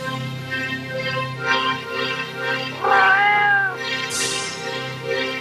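A cat meows several times with rising, harmonic cries, the loudest in the middle, over a steady background of indoor soap-opera drama.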